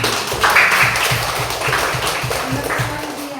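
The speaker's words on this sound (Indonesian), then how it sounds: "Iya, kasih dulu tepuk tangannya." An audience in a classroom-style session claps together, a brisk burst of many hands with a rhythmic, fairly loud patter running throughout, with a voice briefly audible over it.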